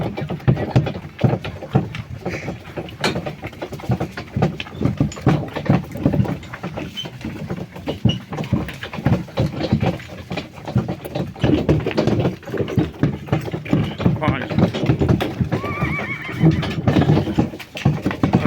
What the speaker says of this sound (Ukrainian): є тут ще кінь